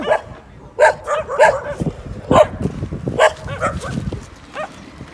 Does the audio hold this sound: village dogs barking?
yes